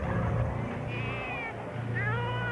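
A cat meows close by, with two drawn-out, wavering meows over a low background rumble.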